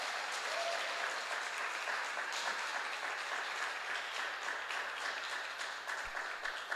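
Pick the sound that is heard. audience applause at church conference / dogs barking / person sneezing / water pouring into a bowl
audience applause at church conference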